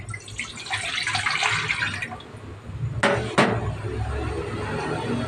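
Coconut milk pours into a cooking pan with a continuous liquid splash and trickle, close by, with a couple of sharp clinks partway through.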